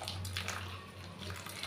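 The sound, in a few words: pouring water into pakoda batter while mixing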